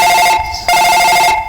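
A telephone rings loudly and close, a bright repeating electronic trill in two bursts with a brief gap between them.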